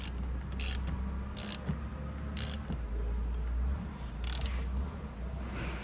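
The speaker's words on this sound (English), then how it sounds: "I like to go ahead and tighten them before I put the timing chain on." Ratchet wrench tightening bolts on a Venom 125cc engine: rhythmic ratcheting clicks in short bursts, close by, over a steady low hum, with no talk.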